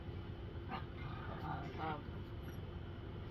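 Puppies whimper and cry in a few faint, brief bursts over a steady low room hum, with quiet stretches between the cries.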